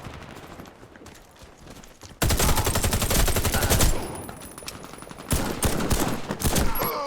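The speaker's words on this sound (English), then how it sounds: "the one I'm using here, the Colt Python Elite, is probably one of the best pistols in the game" Colt Python Elite pistol fired in the online shooter Warface on Nintendo Switch: a quieter opening stretch, then loud rapid volleys of gunfire from about two seconds on, with a brief lull before another burst.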